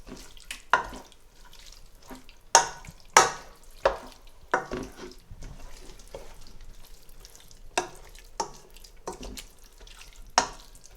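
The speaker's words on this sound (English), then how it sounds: "Give it a nice mix once it's added" Salt is stirred into spinach for palak paneer, with repeated bursts of scraping and clattering against the pan over a faint background sizzle and no voices.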